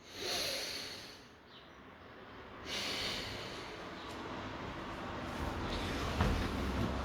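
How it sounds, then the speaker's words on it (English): A person demonstrates deep, heavy breathing for voice training: several loud, hissing breaths in and out, close to the microphone, with no talking. "So if you breathe like this"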